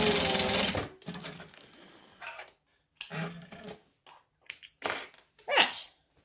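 A sewing machine stitches wallet slip pockets with a backstitch in short rattling bursts, one long run followed by several brief ones, with pauses and handling noise between them.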